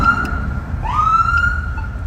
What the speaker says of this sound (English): I'm gonna light the siren just to let them know we're coming.